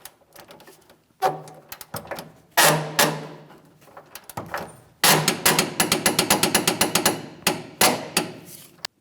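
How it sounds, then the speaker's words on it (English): Wrench torquing a rear shock absorber bolt with a 21 mm socket to 129 foot-pounds on a 2015-2025 Ford Transit 250, heard as loud, close ratcheting clicks that come in scattered bursts and then a fast rhythmic run of strokes. "Let's go ahead and torque that."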